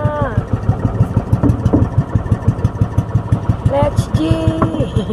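A fishing boat's engine starts and settles into a close, steady chugging idle with even rapid pulses, while a few voices speak over it.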